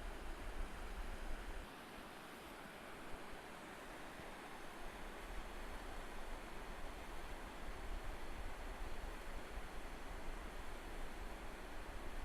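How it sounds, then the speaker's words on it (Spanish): Waterfall beside a narrow, rocky hiking path on the Sisterna lakes route in Ibias, Asturias, heard as a steady, dense rush of falling water that fills the whole stretch at an even level. "a mano derecha veremos la primera cascada"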